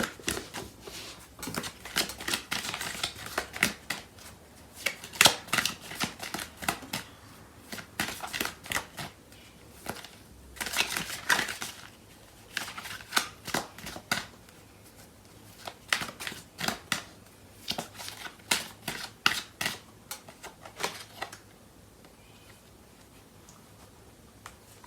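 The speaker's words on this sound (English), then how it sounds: "So I'm going to pull out some cards." Tarot cards are shuffled close by in a quiet room, quick papery riffling bursts and soft snaps repeating irregularly throughout, with no talking.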